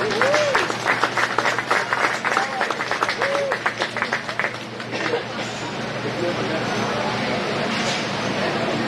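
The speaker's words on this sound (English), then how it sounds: "Let's give that young lady a nice round of applause" Spectators at a county fair cattle show applaud a young exhibitor of market steers. Brisk, close clapping runs for several seconds before settling into a murmur of crowd chatter.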